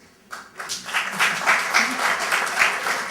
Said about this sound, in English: An applause, please.